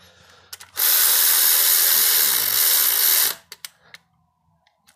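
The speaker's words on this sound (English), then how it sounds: "Love these Milwaukee ratchets." A Milwaukee electric ratchet drives a bolt on a Toyota Camry cylinder head during thread repair, giving one loud, steady whirring burst of roughly two and a half seconds, followed by a few short clicks and taps.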